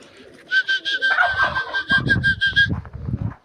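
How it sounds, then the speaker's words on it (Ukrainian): Pigeons coo in a series of soft, rounded calls, close and fairly loud, with a steady high chirping tone running through the middle of it. "Оцей голубок хороший"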